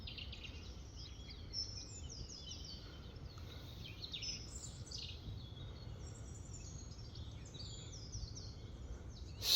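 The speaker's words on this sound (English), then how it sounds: "So peaceful. Just hear the birds." Faint birdsong beside a canal on a narrowboat cruise, with scattered chirps and short trills over a quiet, low background hum, heard from a distance.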